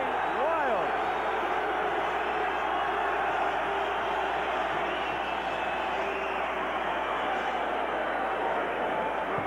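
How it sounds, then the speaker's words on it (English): A boxing arena crowd roars steadily at a Chris Eubank versus Ray Close rematch, a continuous loud wall of cheering beneath a commentator's voice. "The crowd going wild."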